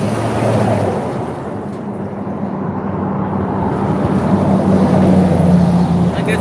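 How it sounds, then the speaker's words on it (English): Road traffic passes in a continuous, loud broadband roar of tyres and engines that swells slightly toward the end, with no one speaking over it. "eventually traffic was going to pick up because nobody wants y'all to hear me talking"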